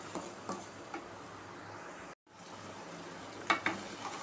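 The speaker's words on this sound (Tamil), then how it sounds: "நல்லா வதங்கட்டும்" Salted onions sautéing in a pan make a quiet, even sizzle, broken by a few light taps and scrapes from stirring and a brief moment of silence partway through.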